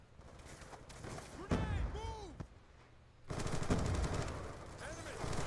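Gunfire from the video game Call of Duty Black Ops, with bursts of rapid automatic fire and single shots, loud and close, alongside a few whooshing game effects and brief pauses.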